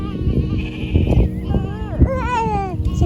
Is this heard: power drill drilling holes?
no